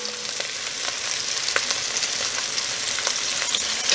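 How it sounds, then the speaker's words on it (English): Elk shanks searing in a hot pan give a steady, dense sizzle and crackle with occasional sharper pops, continuous and close throughout. "Alright, done searing."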